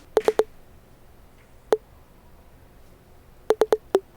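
A short sine-wave tom from a dance beat built in Serum plays in sparse clusters: a quick triple hit, a lone hit, then four rapid hits, clean and tonal against near silence.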